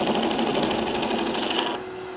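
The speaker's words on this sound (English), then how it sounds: "it's a good time to use the skew to just clean this up" A wood lathe spins a carver's mallet blank while a skew chisel cleans up the surface, a loud fast chattering buzz that drops away sharply near the end.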